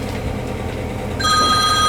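A telephone rings loudly with an incoming call. The steady electronic ring starts partway through, over a low background rumble.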